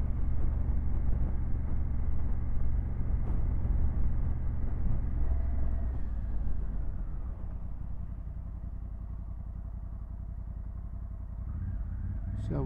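A 2024 Honda CRF1100L Africa Twin ridden slowly and steadily around an island, a low engine drone that eases off midway into a quieter hum with rushing wind.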